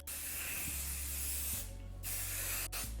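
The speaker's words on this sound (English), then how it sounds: "I'm gonna take some hairspray. This is the Kenra Volume Spray." Kenra Volume hairspray hisses from an aerosol can in two bursts, a longer spray and then a shorter one, close to the microphone with no talking.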